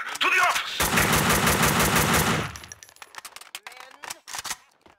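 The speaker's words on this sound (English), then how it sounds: "I can still hear gunshots!" Max Payne 2 video game: a long burst of rapid automatic gunfire, loud and close, gives way to scattered single shots and clatter.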